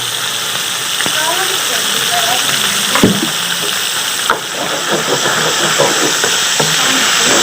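Boneless chicken frying in a handi with ginger garlic paste, a steady loud hiss and sizzle with occasional crackles and a clank or two, with a voice talking over it.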